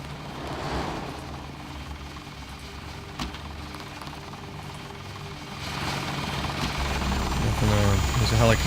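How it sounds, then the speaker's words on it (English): A helicopter drones in the original Deus Ex video game, a steady rotor and engine rumble that swells near the end as it seems to draw closer, with a voice talking over it. "There's a helicopter here."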